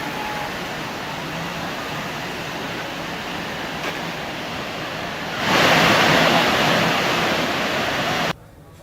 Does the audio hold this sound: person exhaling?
no